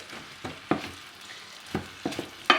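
Parsnips sizzle in melted butter in a pan under a steady soft frying hiss, with several distinct scraping stirs of a utensil at irregular intervals.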